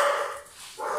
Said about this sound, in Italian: lo so, i cani stanno avvisando.